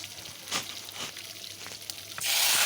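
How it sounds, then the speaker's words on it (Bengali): Garlic fries in a wok with a close, faint crackle, punctuated by a few stirring scrapes before a sudden louder burst of sizzle. "রসুনটা আমি একটু লাল লাল করে ভেজে নেব"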